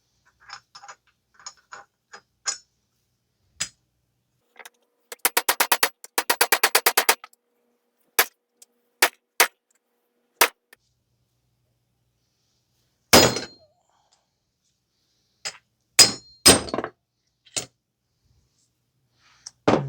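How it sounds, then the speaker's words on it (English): Metal hammer blows driving a wheel hub and bearing out on a Toyota, sharp ringing strikes in scattered single hits and a rapid burst of repeated blows, loud and close with silent gaps between. "So we were just going to keep on hammering."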